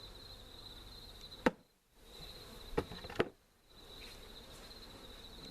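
Honey bees hum faintly at an open colony during feeding with pollen patties, a steady low buzz broken by a few sharp knocks and two short quiet gaps.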